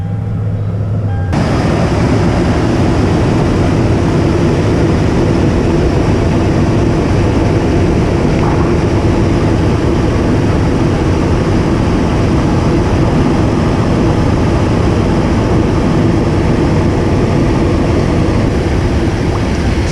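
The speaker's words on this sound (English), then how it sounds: "So now I'm gonna go ahead and start the truck and continue topping off the coolant" Toyota Tundra truck engine starting up and then running steadily under the hood, a loud, constant broadband hum with no talk.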